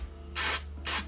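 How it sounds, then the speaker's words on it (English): Two short hissing bursts of electrical contact cleaner sprayed onto a dusty Philips GM7628 signal tracer, close and fairly crisp, separated by a brief pause over a faint low hum. "Just see if I can blow a bit of the dust off with some parts cleaner."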